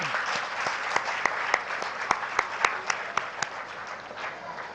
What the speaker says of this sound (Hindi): मैं आप सबसे आग्रह करता हूं कि एक बार हमारे डॉक्टर अनुपम जैन जी का जोरदार तालियों से अभिनंदन करें।